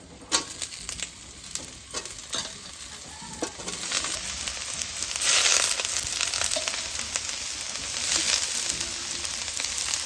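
Vegetables and cabbage sizzle and crackle in a hot pan for Bengali rice fry, with onions and green chillies already fried, as a spoon stirs through with scraping clatters; steady close frying with no talk.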